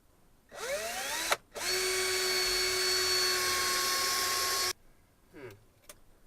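A power drill drives a deck-style screw with a threaded tip and smooth shank into a wall build, whirring up loudly for several seconds after a brief start, then cutting off with faint handling noise.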